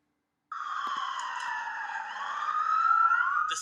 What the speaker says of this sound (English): The sirens started wailing at around 1 o'clock this afternoon